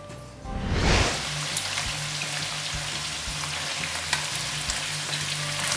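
Seafood dropped into a hot pan bursts into a loud sizzle that settles into a steady, crackling fry, close and continuous with no talking.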